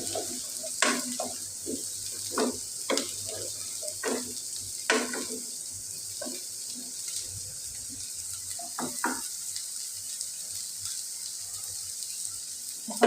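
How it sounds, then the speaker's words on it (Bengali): Mixed vegetables are sautéed in a pan with repeated spatula scrapes and knocks at an irregular rhythm over a soft, constant sizzle, close and moderately loud. "সবজিগুলি দিয়ে আমি সবজিটা ভালোভাবে কষিয়ে নেব"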